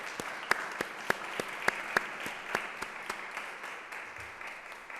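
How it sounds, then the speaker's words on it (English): Round of applause at a school Republic Day celebration, a fairly faint, steady patter of many hands with a few sharper individual claps standing out. "they all deserve a huge round of applause."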